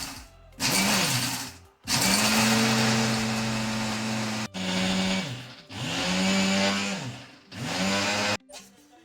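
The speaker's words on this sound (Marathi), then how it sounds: "आता हे आपल्याला सारं एकत्र करून वाटून घ्यायचं आहे" Mixer grinder blending sesame seeds, peanuts and coconut into a red chutney, loud motor whirring in several bursts of a few seconds each with brief stops between, pitch sagging and recovering as the jar contents churn.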